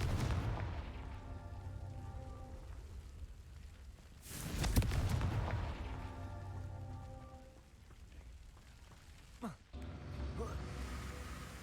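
A Confringo explosive spell blast in Hogwarts Legacy: a single loud booming burst rises out of steady rain-like game ambience, with a short sharper crack a few seconds later.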